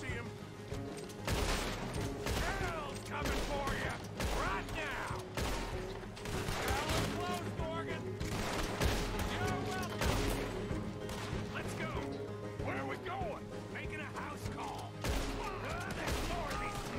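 Gunfire rings out in Red Dead Redemption 2, a dense run of repeated shots and volleys over steady background music and voices, loud and continuous throughout.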